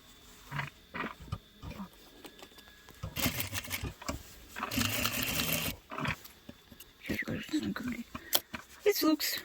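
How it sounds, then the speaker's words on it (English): A sewing machine top-stitching a tailored bedskirt runs in short bursts of rapid stitching, starting and stopping, with soft handling noises between runs. "I will make just top stitch on the sewing machine."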